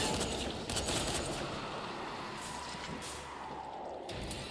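Rifle gunfire in the zombie video game Dying Light: a dense, sustained crackle of rapid shots with broad bursts throughout, loud and continuous with no talking.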